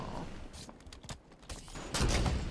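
A few sharp gunshots from a Halo 5 match, the last one loudest near the end, under a speaking voice.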